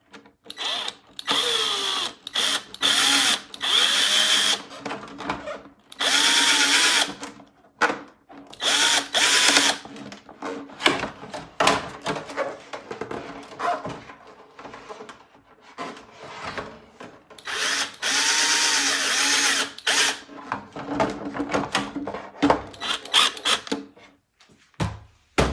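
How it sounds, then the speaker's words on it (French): Power drill driving screws into an LED light mount on a Traxxas X-Maxx RC truck, in repeated loud bursts of whirring with short pauses between, no talking. "j'ai mis mon support, j'ai mis ma vis. Et je viens visser tout ça."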